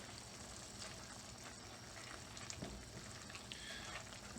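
Mac and cheese noodles, just over two cups, being stirred in a pot to coat them, a quiet steady sizzle and bubbling with a few soft scraping knocks of the spoon partway through.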